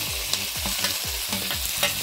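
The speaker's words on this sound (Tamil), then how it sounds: "வெங்காயம் நல்லா ப்ரௌனாக தான் இந்த அளவு வதங்கி வந்துடுச்சு." Onions frying in a pan until browned for mutton pirattal, with a steady sizzle and repeated scraping strokes of a spatula at a regular rhythm, close and fairly loud, with no talking.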